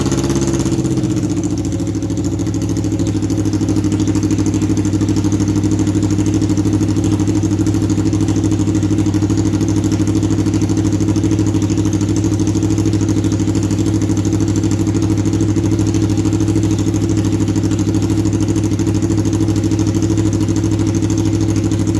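A Skoda Octavia engine idles steadily with open headers and the catalytic converter removed, giving a loud, even, droning exhaust rumble that runs unbroken for the whole stretch.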